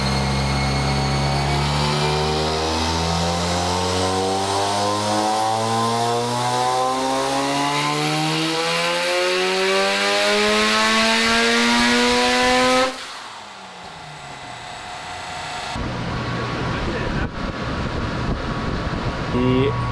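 Rotary-engine Corvette on a dyno with boost turned up: a loud, buzzing engine note climbs steadily in a long sustained pull, then drops abruptly to a rough idle and rises again into a harsh, raspy roar.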